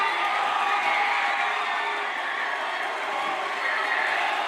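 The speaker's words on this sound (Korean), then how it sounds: "응원장은 순식간에 함성으로 뒤덮였습니다" A crowd of Korean-American fans at a football viewing party in a US Koreatown roars after an equalizing goal against the Czech Republic, a steady, sustained wash of cheering and shouting that fills the space without letting up.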